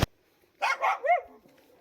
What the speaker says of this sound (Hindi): चीकू को पता चला कि हम लोग नीचे से आ रहे हैं, और ये भी लग गया भौंकने